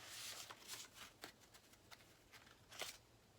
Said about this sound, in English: I'm going to mix these cards together